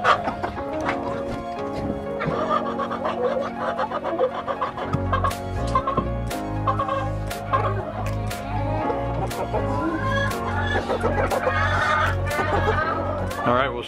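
Broody hen and other hens clucking and squabbling over nesting boxes in a coop, with continuous overlapping clucks and squawks, close and fairly loud, over a steady low hum.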